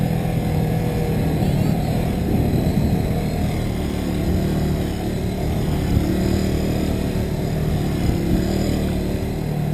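A Kawasaki W175 SE motorcycle from 2020, ridden in first gear, gives a steady close engine drone with a low throbbing hum and rushing wind noise, holding a fairly constant pitch with slight rises throughout, no talking.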